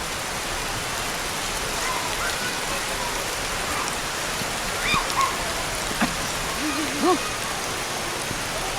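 Steady rain hisses all around at a mountain resort campsite, a dense even patter with a few faint voices and small sounds surfacing briefly in the background.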